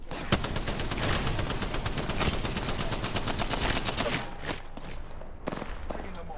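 Rapid automatic gunfire in the battle royale game Apex Legends, a dense, continuous stream of shots that thins out near the end, with voices talking over it.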